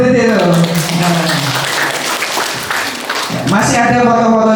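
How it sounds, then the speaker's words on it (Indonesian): A crowd of students claps in a sustained burst of applause at a student council leadership training day at a special needs school, with someone speaking just before and after. "Tepuk tangan untuk Bu Titi itu"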